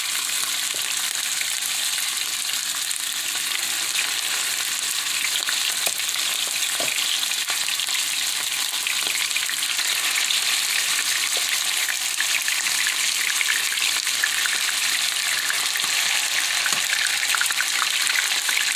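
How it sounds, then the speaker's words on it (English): Beef shanks brown in a hot pan with a steady, close sizzle and crackle that runs unbroken and fairly loud, with occasional light scraping. "Now I have my beef shanks in, and I'm going to just brown those on both sides and take those out."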